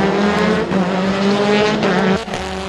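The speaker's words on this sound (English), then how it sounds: "Another drag race to the line, but a first time victory to Darren Windus" All-wheel-drive race cars roar side by side at full throttle on a circuit, a loud sustained engine drone with a brief drop near the end, heard up close with no voices.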